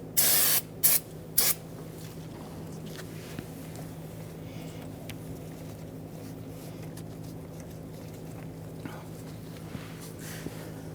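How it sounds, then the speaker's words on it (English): Three short bursts of hissing solvent spray from an aerosol can onto a 2007-2021 Toyota Tundra brake master cylinder area, followed by a long stretch of low, steady humming background. "spray this down with some solvent"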